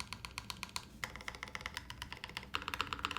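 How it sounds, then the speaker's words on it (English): Rapid clacky typing on a mechanical keyboard with a deep-sounding spacebar, a dense run of close key strikes with slightly heavier, lower thocks mixed in, quiet overall and without speech. "That is a crazy deep spacebar."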